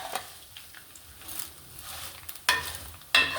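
Sewaiyan vermicelli frying in lightly warmed ghee, a low crackling sizzle with a few sharper scraping bursts near the end as the strands are moved about, close up and with no talking.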